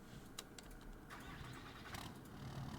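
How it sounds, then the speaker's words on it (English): A modded car in Farming Simulator 25 is started, with a faint crank and catch settling into a quiet, steady idle alongside light clicks. "So let's start her up and see how it sounds."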